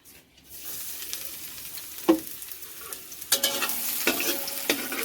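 Garlic sizzles in a hot wok while a metal spatula scrapes and stirs it. A soft sizzle runs underneath, broken by several sharp, close scraping strokes at uneven intervals.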